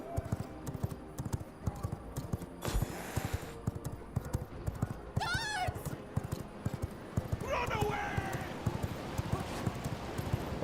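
Horse hooves clip-clop steadily in the V Rising video game, a rhythmic run of hoofbeats with a couple of whinnies, under talking throughout.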